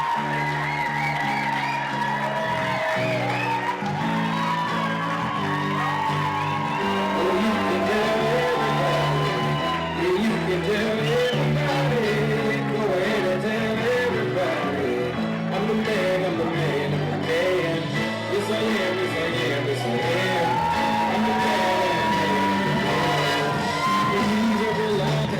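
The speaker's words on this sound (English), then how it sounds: "Let's keep that round of applause going." A crowd at a retirement party cheers and hollers for a retiree, a sustained mix of shouts, whoops and voices, loud and continuous with only faint clapping beneath.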